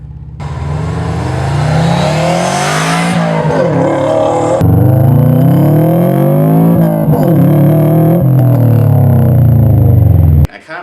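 A Saab 9-2X Aero's engine roars loud and close, revving up and down through gears with a strong, rising and falling growl that stays intense throughout.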